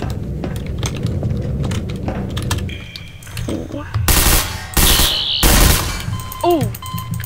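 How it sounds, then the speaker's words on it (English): Rapid bursts of gunfire from the Garry's Mod video game, loud and close, mixed with game effects, while a voice talks over parts of the clip. "Why did you shoot me? Stop shooting me."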